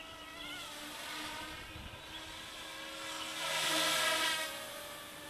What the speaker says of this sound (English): It's a scale helicopter, so let's just whiz her around